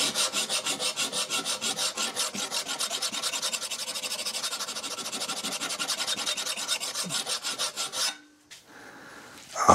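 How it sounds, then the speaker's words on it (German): A hand file rasps rhythmically back and forth across the edge of a dull lawn mower blade, steady close strokes for about eight seconds before stopping, then a brief clatter. "wenn ich es von Hand, tatsächlich von Hand mit der Feile schärfe, das Messer"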